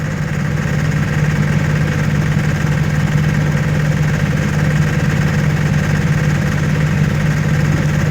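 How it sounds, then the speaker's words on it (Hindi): Mahindra diesel generator engine running at idle, a loud, steady low hum with a constant mechanical drone and slight knocking vibration that stays even from start to finish, with no speech. "आप देख सकते हैं ये मैनुअल में हमारा इंजन स्टार्ट हो जाएगा"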